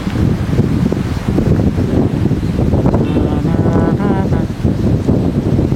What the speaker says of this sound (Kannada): ವಿರುದ್ಧದ ಗಾಳಿ ಈ ಕಡೆ ಬೀಸ್ತಾ ಇದೆ.